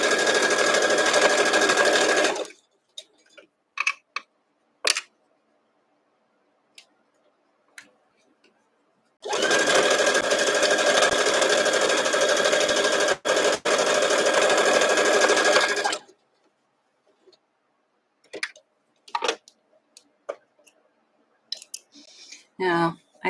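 A sewing machine stitches a quilt seam in two long steady runs of fast, even whirring, close and loud, with short pauses of clicks and handling between them.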